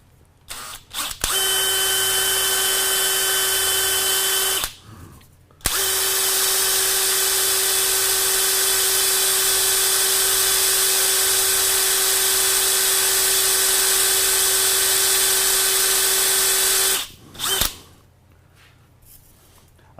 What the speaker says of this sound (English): this is 7/16 14 we're going to drill and tap this out at.